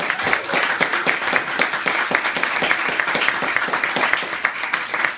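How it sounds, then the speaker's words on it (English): A crowd applauds after a live band performance at a club, giving dense, energetic clapping for several seconds with no voices over it. "Give me a round of applause"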